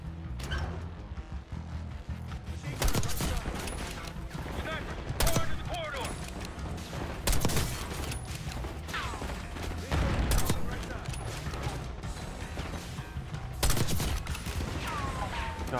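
Gunfire in a Call of Duty Black Ops 6 campaign battle, with heavy bursts of shots and impacts recurring every couple of seconds over a dense, rumbling combat background.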